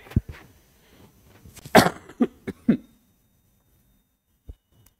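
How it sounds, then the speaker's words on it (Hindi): A few sharp coughs in a quick cluster, close and fairly loud, then a short pause and one more faint cough. "ये खांसी है कि ठीक ही नहीं हो रहा यार"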